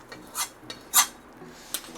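Tempering (tadka) poured into Gujarati dal in a pot: a few sharp metallic clinks and scrapes of a utensil against the pot, spaced apart over a quiet background.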